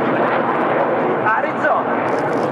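Roar of Frecce Tricolori jets flying an aerobatic display at an air show, a loud continuous engine rumble that fills the whole clip while an announcer's voice runs over it.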